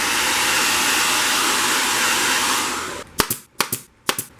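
Heat gun blowing on a plastic chair seat cover, a loud steady airy roar for about three seconds, then cutting off into a few sharp knocks and clicks.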